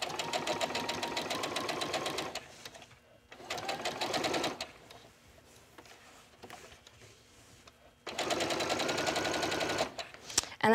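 A domestic sewing machine stitching fabric for a 1950s-style garment detail, whirring in three loud rapid-fire bursts separated by quieter pauses with faint handling noise, close up and with no talk.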